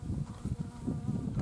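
A tarantula hawk wasp buzzes close by with a steady, low, wavering drone that lasts just over a second and stands alone without any talk.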